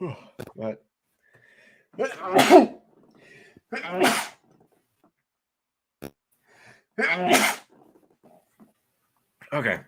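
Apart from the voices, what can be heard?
sneezing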